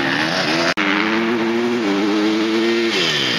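A motorcycle in a trials competition runs close by with a loud, sustained engine note whose pitch wavers and dips as it rides through, and it is heard alone.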